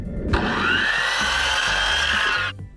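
A power saw cuts through a 1x8 wood board in one continuous whining pass of about two seconds, loud and close, then stops.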